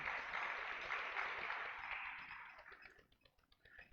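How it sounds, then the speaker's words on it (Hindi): Applause from a class audience at a devotional religious gathering, a dense wash of clapping that fades over the last second into scattered claps. "तालियां बजाएं"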